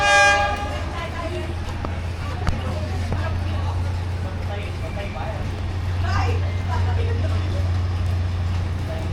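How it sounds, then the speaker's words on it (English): A train passing very close in Vietnam, a heavy low rumble sustained throughout with a brief horn blast at the start and clanks over the rolling noise, while people talk nearby. "Pretty crazy to think we're going to sit that close to the train."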